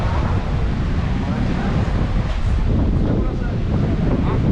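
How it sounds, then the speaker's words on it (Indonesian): Strong wind buffets the microphone outdoors at Hang Nadim airport in Batam on an afternoon, a loud, steady broadband roar with gusty low rumble throughout, talk faintly mixed in. "Oh, angin keras."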